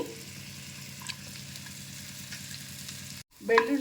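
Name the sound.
garlic frying in butter until golden brown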